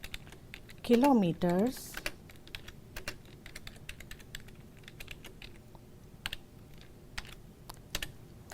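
Scattered keystrokes on a computer keyboard while entering a C++ program, soft irregular taps spread across several seconds, with a brief spoken word near the start.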